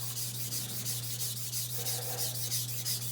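A knife blade draws across a natural whetstone of about 3000 grit to form a micro bevel, making a steady, close, rhythmic rasp that repeats in even strokes without pause, over a low constant hum.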